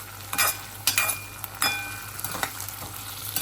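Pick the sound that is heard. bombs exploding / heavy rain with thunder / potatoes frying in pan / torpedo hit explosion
potatoes frying in pan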